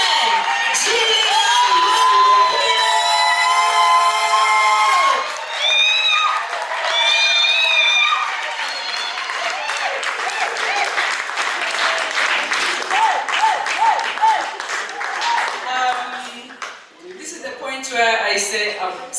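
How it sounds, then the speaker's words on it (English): A live audience cheers, whoops and applauds at a 2020 ethnic cooking event, loud and sustained, with music and voices mixed in and a brief dip before the clapping swells again. "she deserves a great, great, great round of applause"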